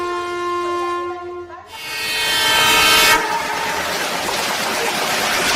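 A passenger train sounds a sustained horn blast, which cuts off into a loud broadband roar and rumble as the carriages rush past nearby.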